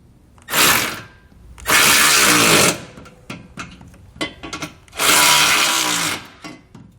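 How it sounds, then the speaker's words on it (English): A 9/16 socket on a power driver snugs bolts on a Blue Ox base plate on a 2018 Ford Edge, with three loud whirring bursts, the middle and last lasting over a second, and short clicks and clanks in between. "take a 9/16 socket and snug up our bolts"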